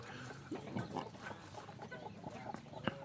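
Chickens cluck softly and intermittently on a rural farm in Sam Tai, Houaphan province, Laos, on a morning in early March, amid a dense, continuous outdoor background.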